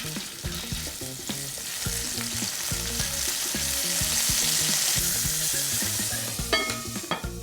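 Pork belly fries in hot oil in a wok, a loud, steady sizzle and crackle close by, with occasional scrapes and clinks of a utensil stirring the pieces.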